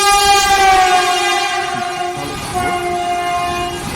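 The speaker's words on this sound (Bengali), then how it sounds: "এখানে বন্দে ভারত ট্রেনটির দেখা মিলল।" A Vande Bharat Express train at a railway platform sounds a loud, sustained, multi-tone horn over a steady low rumble throughout, with the tone briefly shifting partway through; no one speaks.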